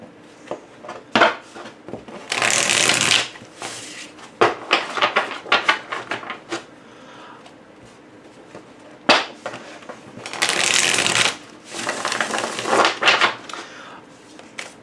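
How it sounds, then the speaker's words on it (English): A Tattoo Tarot card deck is shuffled in bursts of crisp riffling and flicking, loud and close, separated by quieter handling and soft taps. "I'll shuffle it a little bit just so you can sort of see it out in a spread."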